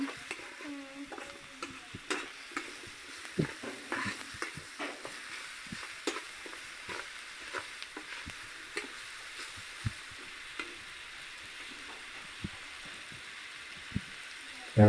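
Taro stirred and fried in a pan, with soft intermittent scraping and tapping of a spatula over a faint, low sizzle. The sound is fairly quiet and close, with sparse clicks spread across the stretch.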